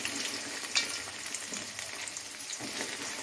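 Okra pieces frying in hot oil, a soft steady sizzle with faint bubbling and a brief sharper crackle near the start, fairly quiet and heard alone without talk.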